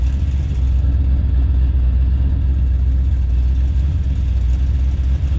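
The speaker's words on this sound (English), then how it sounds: "What do you think of that lovely throbbing engine sound" A Jaguar S-Type engine idles steadily up close, a deep, continuous throbbing rumble with slight fluctuations and no voices.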